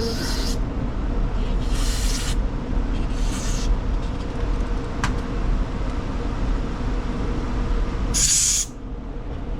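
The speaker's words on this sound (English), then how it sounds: "let me get a little carb cleaner in there" Carb cleaner sprayed into the carburetor of a Honda push mower, heard as four short, sharp hissing bursts spaced across the clip over a steady low background drone.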